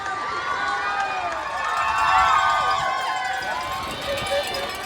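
Dense, roaring crowd noise on Tower Bridge during the London Marathon, with cheering and shouts layered into a continuous wall of sound that swells slightly midway, with voices mixed in.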